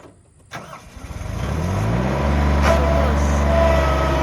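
On a farm, an engine cranks and catches, then rises into a steady, close rumbling idle that holds to the end.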